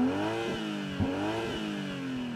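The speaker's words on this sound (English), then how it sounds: "rev your M340i XDrive." A BMW M340i xDrive G21 touring's six-cylinder engine revs hard three times in quick succession, each blip rising and falling close by, with no voices.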